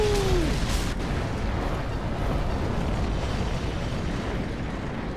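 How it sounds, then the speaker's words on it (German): Explosions from a chain reaction at an oil pump camp in the video game Mad Max: a heavy blast at the start followed by a long, loud rumbling roar of fire and debris with no speech. "Mein Gott, da endet es nochmal mit einem wunderschönen Knall"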